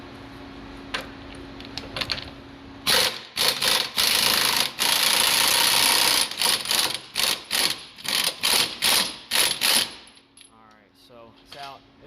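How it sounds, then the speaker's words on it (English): An impact gun loosens a 30 mm strut bolt on a 2003–06 Ford Expedition rear strut, firing loud rapid hammering bursts in a string of short pulses with brief gaps, preceded by a quieter steady hum. "The bolt is a 30 millimeter. I'm going to hit it with my impact gun."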